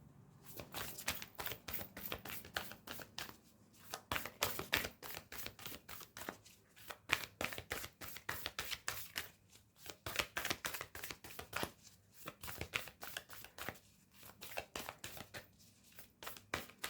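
Cards from a Moonology Oracle deck are shuffled steadily, a dense run of quick papery riffles and flicks, close and fairly quiet, with brief pauses between bursts and no talking.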